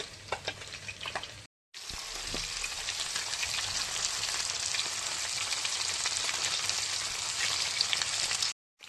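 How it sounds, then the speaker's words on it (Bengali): Fish pieces frying slowly in oil in a pan give a steady, dense sizzle that runs almost throughout, broken by two short silent gaps near the start and end. "আর এক খোলা মাছ ভাজতে দিয়ে দিয়েছি, অনেক মাছ তো আস্তে আস্তে ধৈর্য ধরে ভাজছি"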